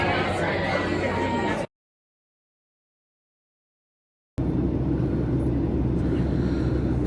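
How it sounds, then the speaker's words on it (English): Cabin noise of an airliner in flight to Las Vegas, a steady loud low roar and hiss that cuts out to dead silence for a few seconds, then resumes. "Finally on the plane, on my way to Vegas"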